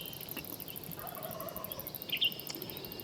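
A wild turkey gobbles faintly from up a hill at sunrise, a short rattling call against quiet outdoor background, followed by a brief fainter call.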